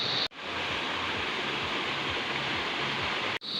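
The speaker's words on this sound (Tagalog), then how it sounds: "Puro lagaslas lang ng tubig at mga huni ng mga kulisap yung naririnig natin sa paligid" Water rushes steadily and loudly past large rocks in a stream, a dense continuous roar that is cut briefly at the start and the end.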